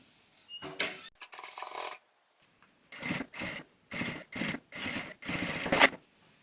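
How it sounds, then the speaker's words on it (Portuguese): A sewing machine set to a longer stitch length of 4 topstitches synthetic leather on a shoulder bag, running in short close bursts of rapid mechanical stitching separated by brief pauses, with a couple of handling noises at the start. "Vou aumentar para 4 o ponto da minha máquina e vou passar aqui uma costura de pesponto."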